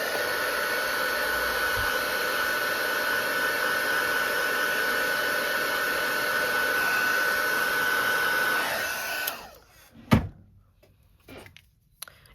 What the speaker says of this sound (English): These are not quite dry yet, so I'm gonna hit this with the heat gun.